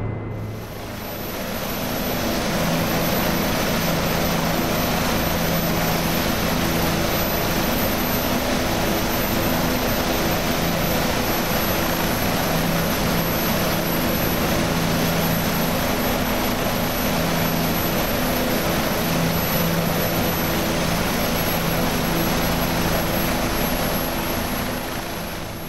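Bell 407 helicopter in the X-Plane 11 flight simulator, a loud steady rotor and turbine drone that holds constant throughout, with no talking.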